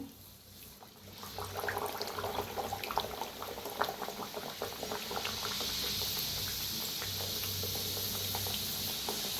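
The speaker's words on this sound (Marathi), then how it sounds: "गॅस कमी करूनच तळायचं म्हणजे मस्त असं क्रिस्पी होत आहे" Kachori deep-frying in hot oil over a low gas flame, a steady close bubbling sizzle with scattered crackles that grows fuller and more even partway through, no voices.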